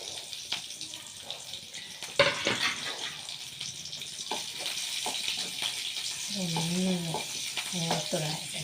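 Garlic and green chili fry in hot oil in a pan, a continuous sizzling hiss broken by stirring clatters, with a voice speaking over the later part.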